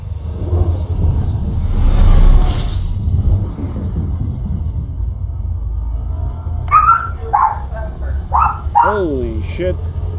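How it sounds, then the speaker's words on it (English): A dog barks and yelps a few times near the end, short high calls over a continuous low rumble, with people talking through much of the stretch before it. "Yeah, dogs bark."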